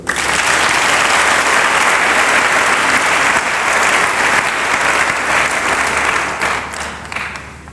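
A church congregation bursts into loud, sustained applause, dense clapping that holds steady for several seconds before slowly thinning out at the end.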